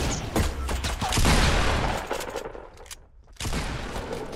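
Gunfire in the Fortnite video game: dense, loud bursts of rapid shots that fade briefly near the three-second mark before another burst.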